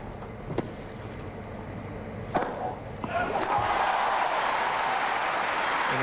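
Crowd at the Wimbledon 2003 men's final between Federer and Philippoussis breaks into sustained applause, swelling after a few sharp pops and continuing steadily, moderately distant, with faint voices underneath.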